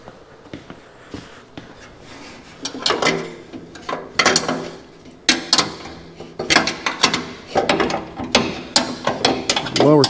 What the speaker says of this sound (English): I gotta get 11/16 wrench.